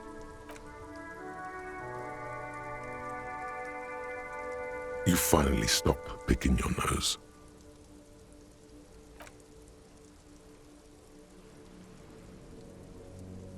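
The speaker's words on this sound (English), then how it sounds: "Rain pours onto the sand and the reeds." Steady rain pours onto sand and reeds on an overcast shore in the video game Disco Elysium, a continuous soft patter throughout, interrupted briefly by a louder burst of noise in the middle, with a voice speaking over it.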